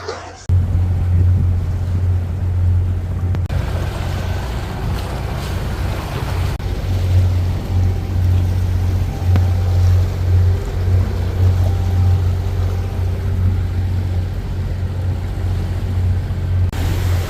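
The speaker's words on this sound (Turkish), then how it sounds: "motorda tuhaf bir ses geliyor" Sailboat's engine running at sea on a passage from the Canaries to Cape Verde, a loud, steady low drone with constant wind and wave noise over it, no talk heard.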